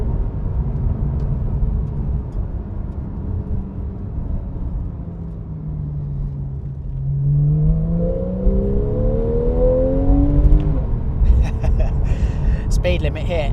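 A naturally aspirated Porsche 911 50th Anniversary flat-six drives along, its engine droning low, then climbing in pitch as it revs up through the gears with a rising whine under a steady cabin rumble.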